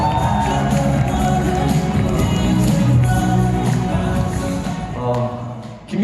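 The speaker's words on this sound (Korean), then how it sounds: "여러분 큰 박수와 환호 부탁드립니다" A conference audience applauds and cheers as a company executive is called to the stage at a network-marketing seminar, a dense, steady wash of clapping and crowd noise that holds loudly for about six seconds.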